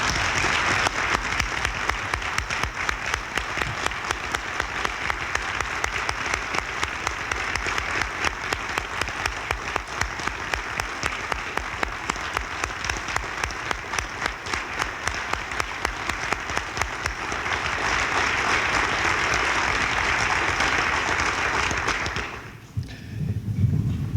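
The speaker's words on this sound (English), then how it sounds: "please give him that round of applause" Sustained audience applause at a Rotary Foundation event fills the room for about twenty-two seconds, dense and steady, then fades out near the end.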